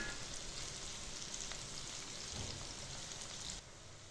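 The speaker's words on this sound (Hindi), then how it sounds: "तकरीबन 3 मिनट तक फ्राई करेंगे। प्याज को ब्राउन करेंगे।" Onions frying and browning in a pan give a steady, even sizzle like light rain, close and fairly quiet, with no voices over it.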